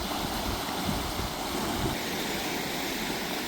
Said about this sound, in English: here comes the water to raise the water level